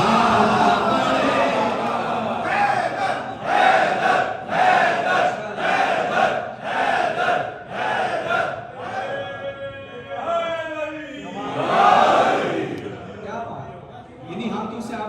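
A crowd at a Shia majlis in Long Island, New York chants slogans in loud rhythmic unison, repeated bursts of many voices rising and falling, with a single speaker's voice leading between them.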